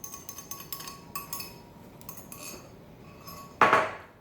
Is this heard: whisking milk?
yes